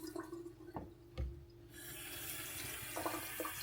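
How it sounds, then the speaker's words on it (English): Water running from a tap to refresh flower water, a steady broadband rush that starts abruptly partway through and continues loudly to the end, preceded by a few soft knocks and handling sounds. "So let's change the water."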